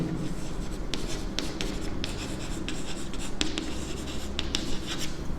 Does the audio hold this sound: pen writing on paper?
yes